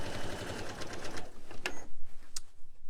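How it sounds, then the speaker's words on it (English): Sewing machine stitching a straight line through a fabric panel for a Christmas advent calendar: a short rapid mechanical whir that stops after about a second, followed by a few small clicks. "mark it with my finger and just sew a straight line"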